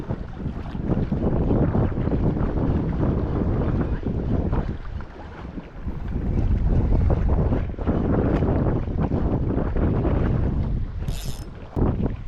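Strong wind roars and buffets the microphone continuously, rising and falling in gusts outdoors while fishing.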